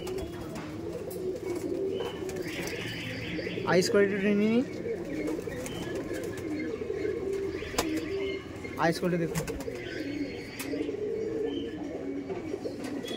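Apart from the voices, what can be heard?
Kashmadam pigeons cooing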